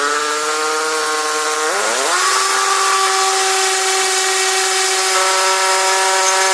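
Electric drill boring a hole into a wall, starting at lower speed, then rising in pitch and holding a steady, loud whine close by.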